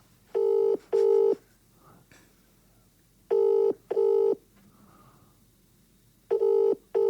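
A telephone call being placed to someone's father, with a tone sounding in paired bursts that repeat in a steady ring-ring pattern about every three seconds, loud and clear with no talking.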